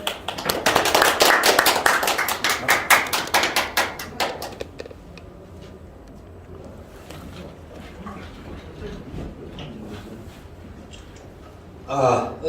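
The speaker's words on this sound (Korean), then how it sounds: "뜨거운 박수로 모시겠습니다." An audience at the opening ceremony of an academic conference claps loudly for about four seconds, the applause close and dense before fading into quiet room noise with faint talk, and a brief burst of clapping returns at the end.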